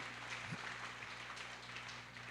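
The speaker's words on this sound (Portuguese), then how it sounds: "Dê uma salva de palmas aí para o apostolado da oração" A congregation claps in a church during an evening Mass for the feast of São Roque, a steady, moderately quiet patter of many hands over a low electrical hum, with one brief knock near the start.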